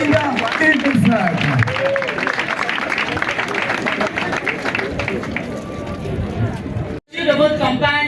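A crowd applauds and cheers at a local election campaign launch held at a party headquarters, with dense clapping and chatter mixed with voices, fading toward the end before a brief cut.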